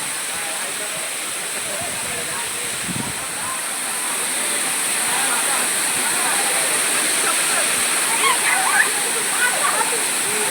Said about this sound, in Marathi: धबधबा बघा वरचा